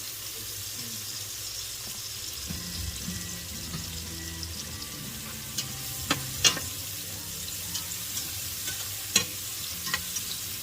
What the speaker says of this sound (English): that needs to saute for 3 to 5 minutes